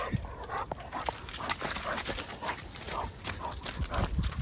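Arlo, a German Pointer that hunted until age three, makes scattered soft dog sounds amid light clicking and shuffling close by, continuing steadily throughout.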